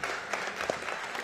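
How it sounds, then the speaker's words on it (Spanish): An audience claps for a group of children, a brief patter of applause heard at a distance, fairly faint and steady. "Vamos a darle un aplauso a estos niños y niñas, pues."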